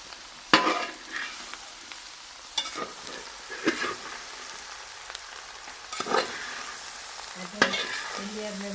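Ginger and garlic sautéing in oil in a Kerala kitchen: a soft continuous sizzle broken by several scraping stirs and clinks of a spoon against the pan, with no talking.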